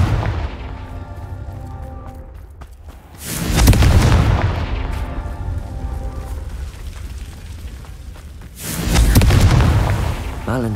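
Two heavy booming blasts from the Confringo fire spell in Hogwarts Legacy, each a loud deep explosion with a rumbling tail, separated by several seconds of lower rumble.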